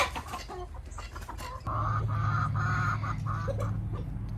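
Backyard chickens clucking and squabbling over scattered scratch feed on a warm day, a steady close chorus of clucks and murmurs that grows louder and busier partway through.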